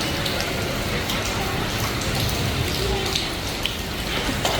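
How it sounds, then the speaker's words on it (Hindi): Heavy rain on a rainy morning: a steady, even hiss of falling drops with occasional louder patters, continuous and fairly close, with no pauses. "और अभी देखिए कितनी अच्छी बारिश हो रही है"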